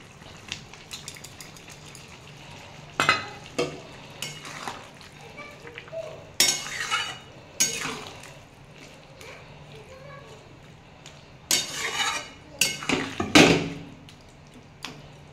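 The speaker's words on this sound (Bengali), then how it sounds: "আমি এবার চিংড়ি মাছগুলো দিয়ে দেবো।" Prawns go into a pan of boiled potatoes and are stirred, giving close clattering spoon scrapes and splashy knocks over a soft bubbling simmer, while a person talks throughout.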